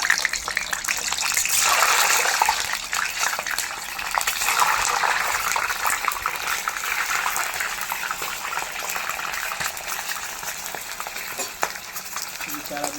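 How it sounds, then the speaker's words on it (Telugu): Peeled boiled eggs dropped into hot oil for a country-chicken egg gravy, giving a loud, steady sizzle and crackle with a strong burst early on that settles into continuous frying, alone without talk. "ఇలా ఆయిల్ కాగిన తర్వాత మనం ముందుగా ఒలిచి పెట్టుకున్న ఎగ్స్"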